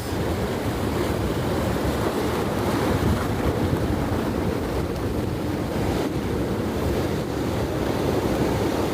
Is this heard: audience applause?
no